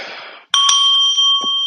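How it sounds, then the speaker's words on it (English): An alarm goes off with bright, steady ringing tones that sustain close and loud after a brief burst of noise, with a short rustle near the end. "That was my alarm to get ready for this"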